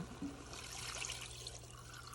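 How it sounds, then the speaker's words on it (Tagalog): Water pours in a steady, soft stream into a cooking pot of chicken adobo, splashing lightly, close by and fairly quiet. "Ngayon, dadagdagan ko na siya ng tubig."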